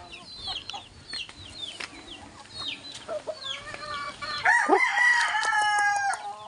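A rooster crows inside a chicken coop, a loud, close crow rising midway after quieter background chicken clucks and chirps, with no talking.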